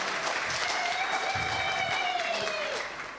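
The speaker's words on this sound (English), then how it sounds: "Can we all give him a round of applause?" An audience at a Southern African broadcasters' convention gives a steady round of applause, dense clapping that fills the room for about three seconds before starting to fade.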